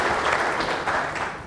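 An audience at a kickoff game luncheon applauding, a thick, steady burst of many hands clapping, loud and close, tapering slightly toward the end.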